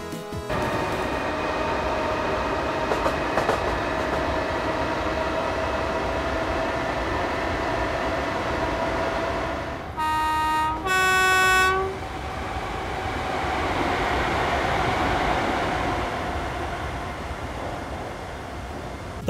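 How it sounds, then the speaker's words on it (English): A train in a train simulator game runs at high speed with a loud steady rumble and rail clatter, broken by two short horn blasts midway, then rolls on alone. "the run sounds at high speed are really good"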